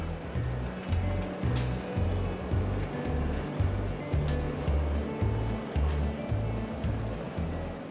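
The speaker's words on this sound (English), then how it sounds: "Inside, the carrots are being plunged into ice-cold water, which keeps them nice and fresh." A hydrocooler plunges washed carrots into ice-cold water, a steady rushing churn with regular low thumping pulses and splashy bursts repeating about twice a second throughout.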